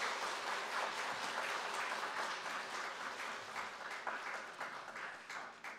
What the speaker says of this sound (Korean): 가족들과 함께 인사하고 들어가실 때 큰 박수로 환영해 주시기 바랍니다